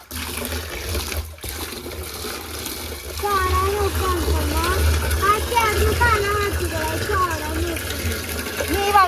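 Water pours and splashes steadily as it is drained out of a muddy pond while fish are caught, a continuous close gush; voices talk over it in the second half.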